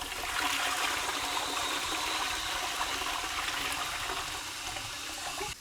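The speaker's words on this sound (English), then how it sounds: "look at this flush when we give it a good one now" A newly fitted flush unit empties a toilet in one steady, loud close-up rush of water that lasts several seconds, then cuts off abruptly at the end, with no voices over it.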